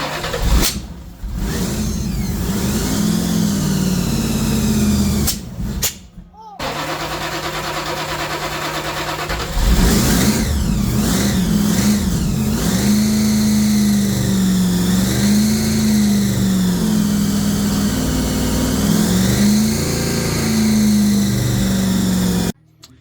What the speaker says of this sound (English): we did get her fired up and she's running